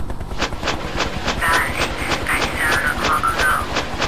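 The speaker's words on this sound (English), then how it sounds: "They're firing a thousand missiles at a tent." Rockets fire in rapid succession at a tent in the attack helicopter game Hind, a quick series of sharp, repeated launches over a constant low engine and rotor drone.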